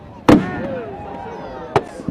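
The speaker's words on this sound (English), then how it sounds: "Winchester Roundtable put on the biggest fireworks display the city has ever seen on Saturday night." Fireworks display by the Winchester Round Table on a Saturday night in Winchester, two sharp loud bangs about a second and a half apart with crackling and a whistling trail between them, under a faint crowd.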